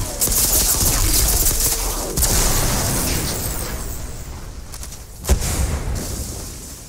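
Rapid gunfire and explosive bursts from fighting enemies in the video game Space Punks, a dense continuous barrage with a few sharper pops, loud and with no talk.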